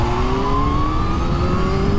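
A Kawasaki H2 motorcycle with a straight-four engine accelerates hard in third gear from about 3,000 revs toward 60 mph, its steady engine whine rising in pitch throughout, loud and close.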